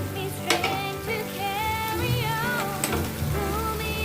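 Chicken pieces frying in an oily pan, a close, continuous crackling sizzle with a few louder pops and spatters, while tonal background music plays softly underneath.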